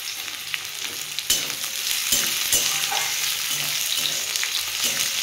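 Onion and garlic fry in oil until reddish for a moringa leaf bharta, making a steady close sizzle broken by short scraping stirs and small crackling pops.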